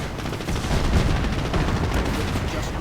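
Dense video game gunfire and artillery pound a Cromwell tank in a World War II strategy match, a loud continuous rumble of overlapping shots and blasts.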